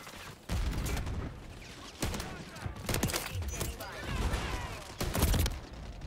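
Point-blank shotgun blasts in Call of Duty Modern Warfare 3 multiplayer: several sharp, loud bursts a second or so apart, with rumbling game noise between them and a voice talking over part of it.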